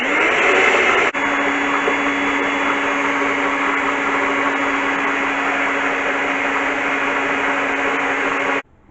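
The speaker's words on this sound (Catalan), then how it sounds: "He tingut els ous batent amb el sucre moreno doncs un parell de minutets més." An electric mixer whirs loudly and steadily as it beats eggs with brown sugar for carrot cake, with one brief change in pitch near the start and a sudden stop at the end.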